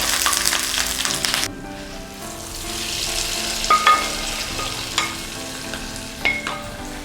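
Nadan beef curry is stirred and fried in a pan. A bright, hissing sizzle fades after a moment into a steadier low frying, with several sharp scrapes and taps of a spoon, close and alone.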